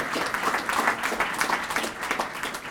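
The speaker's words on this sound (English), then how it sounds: "how about a big round of applause for our moderator extraordinaire, Hal Cox" A luncheon crowd at a chamber of commerce mayors' Q&A gives a round of applause for the moderator, a steady wash of many hands clapping from across the room, alone without voices.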